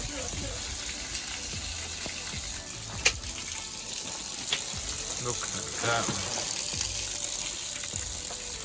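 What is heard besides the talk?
water pouring out of a shot 200L fish tank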